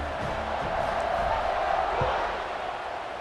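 Crowd in a College Football 26 PS5 game, Buffalo vs. Minnesota in primetime, roaring and cheering in a sustained wash that swells in the middle and eases slightly toward the end.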